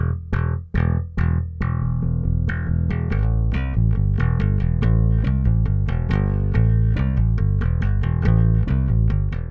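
Bass guitar with active pickups, recorded from an amp's pre-EQ direct out, opens with a few sharp slapped or plucked hits, then settles into a steady, driving line of low, bright notes, close and loud with no voices.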